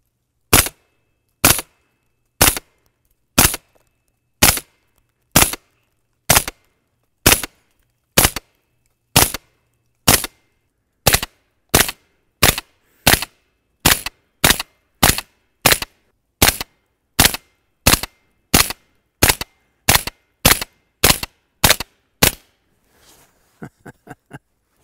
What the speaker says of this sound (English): That hush 165 grain is something else. Super quiet, very soft shooting.